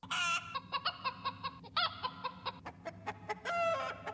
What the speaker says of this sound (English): all of the emotes and in-game voice lines have been replaced with, you guessed it, chicken noises